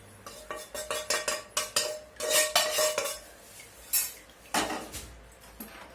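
Roasted semolina is scraped and poured from a pan into a vessel: close metallic spoon scrapes and clinks in quick bursts, with a few heavier knocks against the pot.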